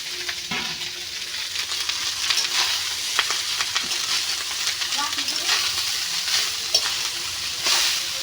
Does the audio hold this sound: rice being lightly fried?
yes